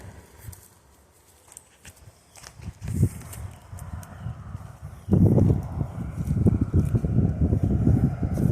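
A Quarter Horse stallion's hooves clop at a slow walking pace, close by, growing louder and steadier partway through, with some wind rumble and no talking.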